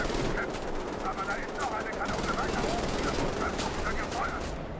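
Rapid automatic gunfire in Wolfenstein: The New Order, a dense, steady stream of shots filling the whole stretch with game ambience, while someone talks over it.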